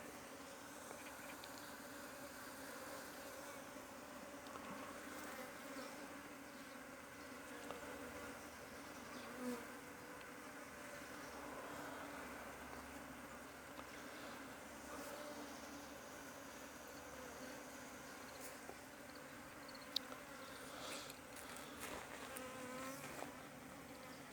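A swarm of native Korean honeybees streams into a hive outdoors, a dense, steady buzzing drone that holds for the whole stretch, with no voices over it.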